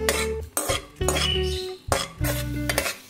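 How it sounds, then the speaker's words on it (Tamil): Cashews and raisins frying in ghee in a kadai, with a spoon repeatedly stirring and scraping the metal pan in bursts over a steady sizzle. "சேர்த்துட்டு நல்லா பொன்னிறமா இதை வந்து நம்ம வறுத்துடலாம்"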